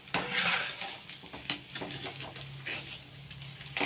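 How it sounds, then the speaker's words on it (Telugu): Flattened rice roasting in oil in a pan, added a little at a time, with a steady sizzle and repeated scraping, clattering strokes of a spoon against the pan. "కొంచెం కొంచెం వేస్తూ ఇలా వేయించుకోవాలి."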